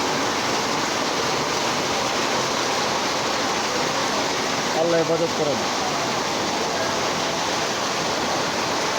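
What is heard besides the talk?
flood water in a street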